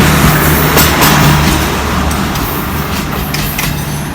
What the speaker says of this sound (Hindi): पाकिस्तान का सबसे 1 नंबर रेलगाड़ी यही है